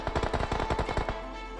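Rapid automatic gunfire in a shooter video game, a burst of about ten sharp evenly spaced shots fired in quick succession, loud and close with no talking, ending with a brief fading tail.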